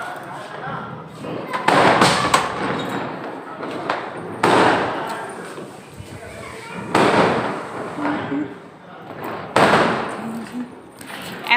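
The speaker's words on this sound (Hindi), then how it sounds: "ये पटाखे जला रहे हैं।" Firecrackers go off during Diwali in a residential lane: four loud, sharp bangs at irregular intervals, each trailing into a crackling rumble, with faint background voices between.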